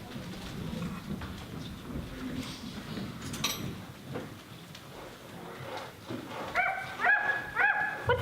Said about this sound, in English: Bring me the dog.